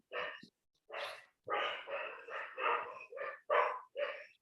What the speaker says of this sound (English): a dog who is hungry or excited